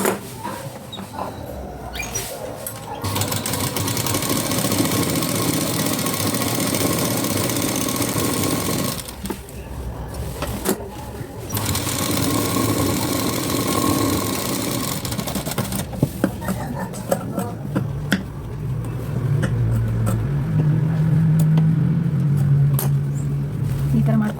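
A domestic sewing machine runs stitches along the edge of a Sabyasachi-style blouse front piece, a steady mechanical whir that starts and stops in bursts, with a low hum between runs and someone speaking at times.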